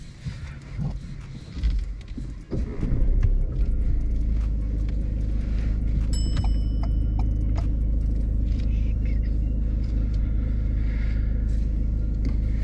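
A car pulls away and drives on during a mock driving test, its engine rising into a steady in-cabin rumble that holds loud and even, with a few light clicks inside the car.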